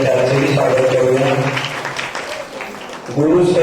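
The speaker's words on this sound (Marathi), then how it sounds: "सर्वांनी जोरदार टाळ्या वाजवून आपण त्यांचे स्वागत करूया।" Audience applause welcoming an award recipient at a Hiremath Sansthan award ceremony in Ausa, steady clapping heard under and between a presenter's speech.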